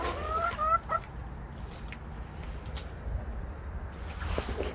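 Backyard chickens cluck and murmur steadily around a coop while being coaxed inside, with a low rumble of outdoor background noise under the continuous flock sounds.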